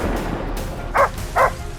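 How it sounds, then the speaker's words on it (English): Two short, sharp hunting dog barks a beat apart during a wild boar hunt in a swamp, fairly close, over a low rumbling background. "Soon, the sharp barks of the hunting dogs echoed loudly."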